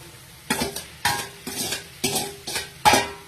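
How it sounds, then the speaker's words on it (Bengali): Fried prawns are tossed with sweet crispy corn in a pan: six rhythmic, scraping bursts of tossing and utensil clatter come about half a second apart, close and fairly loud over a light sizzle. "ভাজা প্রনগুলোকে এর মধ্যে দিয়ে একটু ভালো করে টন্স করে নিতে হবে"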